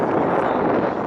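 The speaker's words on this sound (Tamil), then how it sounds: "நல்ல காற்றடிக்குது" Strong coastal wind at Kanniyakumari buffeting the microphone, a steady loud rumbling roar with no other distinct sounds.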